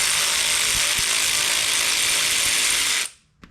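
A ratchet loosening a bolt on the front suspension of an FJ Cruiser during a lift install, a continuous loud rapid clicking of the pawl that stops abruptly near the end.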